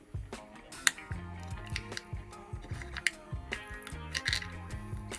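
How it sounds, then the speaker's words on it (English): A small nail tool cutting around the edge of a glued-on nail, giving a string of close, crisp clicks and scraping snips in an uneven rhythm, with no talking. "I'm just going to use my little nail tool there just to cut around the edge."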